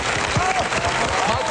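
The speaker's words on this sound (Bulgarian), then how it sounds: "Първи аплодисменти." Audience clapping in a TV studio, a dense patter of applause with a voice speaking over it.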